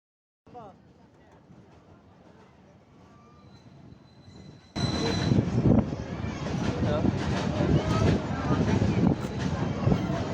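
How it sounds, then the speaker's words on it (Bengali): The Mongla commuter train enters Katakhali railway station. A quiet rumble swells abruptly into a loud, sustained roar of rolling wheels and carriages, with rattling and clatter continuing close by. "Mongla commuter train Katakhali rail স্টেশনে প্রবেশ করল"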